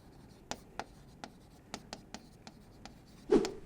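Pen or marker strokes writing out a linear differential equation, a series of short, distinct scratchy taps spaced about every quarter second, fairly quiet and close, ending in a slightly louder rub.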